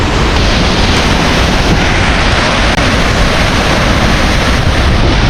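Tad Yueang waterfall in southern Laos, at the end of the rainy season, roars in a loud, steady, unbroken rush of falling water with no voices.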